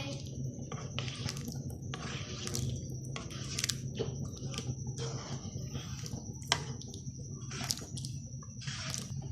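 Achari chana daal, boiled lentils with spices, is stirred in a pan, giving soft, wet squelching and repeated scraping strokes at an uneven rhythm, fairly quiet and close, without speech.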